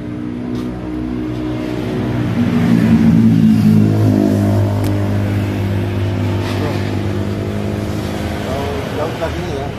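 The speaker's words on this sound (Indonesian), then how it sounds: "saya akan menghidupkan motornya dan teman-teman lihat saya nyeting karburator" Yamaha F1ZR two-stroke motorcycle engine idling and revving up slightly while its carburetor is adjusted, a loud close, steady buzzing drone with a brief rise in the middle, voices talking over it.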